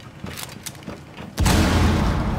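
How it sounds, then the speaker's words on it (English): Grenade going off in the video game Rainbow Six Siege: a few faint clicks and taps, then a sudden loud, close blast that roars and rumbles on to the end. "He threw a nade."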